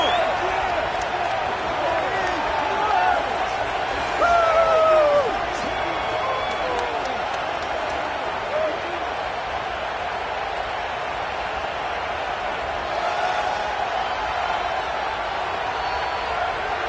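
A dense stadium crowd roars steadily at kickoff of a Tennessee Volunteers college football game in a video game, a continuous loud wash of cheering with a commentator's voice over it.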